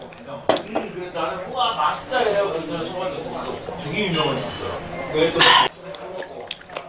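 Soju glasses clink together in a toast over a solo sashimi meal, with a couple of sharp, brief chimes at the start and near the end while a woman chats throughout.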